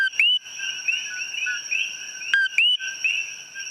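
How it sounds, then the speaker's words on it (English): Puerto Rican coqui tree frogs calling at night on Hawaii's Big Island, sharp two-note whistled chirps repeating several times over a constant high insect-like drone, clear and fairly close. "the beautiful sound of the Puerto Rican tiny frog called koki"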